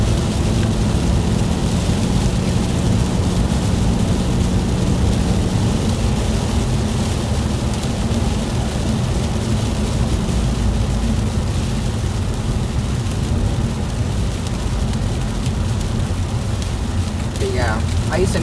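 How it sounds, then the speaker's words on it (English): Wind-driven ice and freezing rain in a heavy Pennsylvania winter storm make a loud, steady hiss and roar that continues without a break throughout. "ice and freezing rain is definitely blowing very fast"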